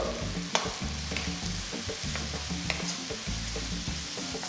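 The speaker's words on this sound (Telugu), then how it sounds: "కొంచెం గోల్డెన్ కలర్కి రావాలండి అంతవరకు దీన్ని కొంచెం బాగా మనం వేయించుకోవాలి" Sliced onions and green chillies frying in a pan for a curry leaf chicken fry, a continuous close sizzle with steady spatula scraping and stirring, no voices.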